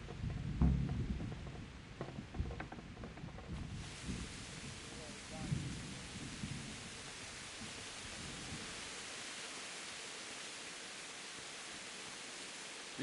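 Steady rain in the video game Kingdom Come pours as a dense, even hiss throughout, with a few soft, low rumbles in the first seconds.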